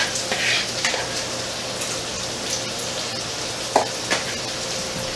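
Onions and mushrooms sizzle and crackle steadily in a pan atop hamburgers, a continuous frying hiss with a few sharp pops and stirring clicks, close and moderately loud with no voices.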